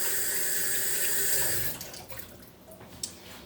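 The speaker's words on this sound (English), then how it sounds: "Let me rinse it off real quick, y'all. Wash it and then rinse it." Tap water runs steadily over oily hands at a kitchen sink while a stroganoff and asparagus dinner is being made; the close, even splashing stops about halfway through, leaving quieter room sound with a small knock near the end.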